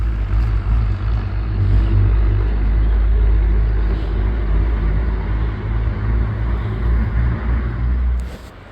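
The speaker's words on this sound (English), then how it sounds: "So you can see the dump trucks over there." A steady stream of dump trucks rolls past on a rural road near a hiking trail outside Erwin, Tennessee, giving a continuous loud low rumble of engines and tires that swells and fades slightly, with no talking.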